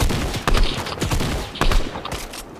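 Video-game gunfire bursts out in rapid, close volleys with several sharp cracks in quick succession, loud and alone with no talk over it.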